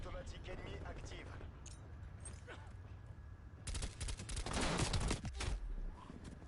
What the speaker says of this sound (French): Tourelle automatique ennemie active